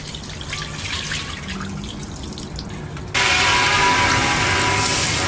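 Water flushing rust out of an air receiver tank, first a sloshing, rattling wash, then a sudden louder rush of steady pouring water close by.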